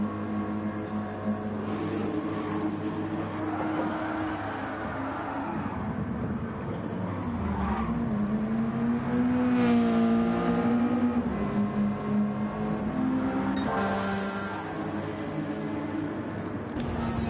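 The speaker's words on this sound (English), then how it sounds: "On board with Matt Psycho as he revs up for another lap." Race car engine in a PS4 racing game revs steadily and continuously, a loud droning whine that rises and falls in pitch through gear changes, with no talk over it.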